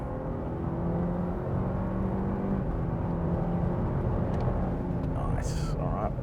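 2023 Lexus LX accelerates from 80 to 120 km/h, a steady muffled engine hum and road roar heard from inside the cabin, with a faint brief higher noise near the end.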